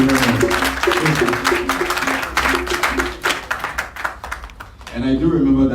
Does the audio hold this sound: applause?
yes